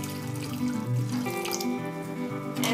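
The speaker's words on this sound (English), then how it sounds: "Also add a glass of water" A glass of water is poured into a pot of dal makhani, a soft, steady gush and trickle of liquid, fairly quiet, with faint tonal music sitting behind it.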